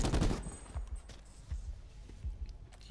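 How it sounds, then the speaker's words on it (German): Automatic fire rattles from a weapon in Call of Duty: Black Ops 4 Blackout, in bursts of rapid cracks that open loud, then come back as quieter, spaced volleys. "Die Waffe rattert auf jeden Fall schön durch."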